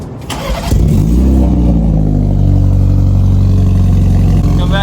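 A BMW 330i's B48 turbo four-cylinder engine with a new downpipe exhaust and Stage 2 tune cranks and fires up, then settles into a loud, deep, rumbling idle with a raspy exhaust tone, close by, not from a cold start.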